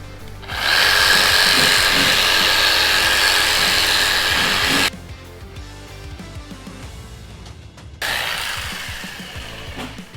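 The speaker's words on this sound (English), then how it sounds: "Should I do a drill hole first in mine" A power drill whines loudly as it bores into a pumpkin during carving. There is a sustained high-pitched run, an abrupt stop, then a second shorter burst.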